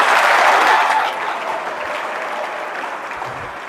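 A crowd of listeners at an Indian anti-addiction youth event breaks into applause, a dense, steady wash of clapping that starts loud and eases slightly after a second, continuing evenly without speech.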